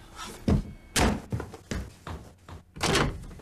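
Series of door shuts in a TV commercial, several separate thuds and slams in uneven succession, fairly close and quiet.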